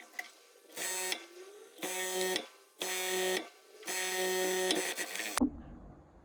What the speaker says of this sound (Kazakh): Так, мінекей мен оверлокқа келдім.